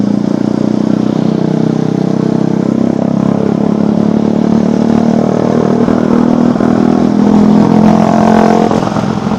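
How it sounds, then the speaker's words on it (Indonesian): A loud motorcycle engine revs and drones steadily, close up, while overtaking in morning commuter traffic on the road from Bekasi to Jakarta; the engine noise runs continuously without pause. "berisik banget nih motor, saya jadi nggak fokus"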